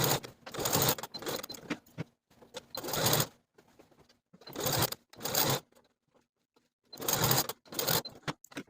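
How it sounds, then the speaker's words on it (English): A sewing machine running a long gathering stitch along the bottom of a sleeve, in several loud close bursts of rapid whirring separated by quiet pauses. "I'm going to use the longest stitch on my machine, and I'm going to use about a 1/4 inch seam allowance"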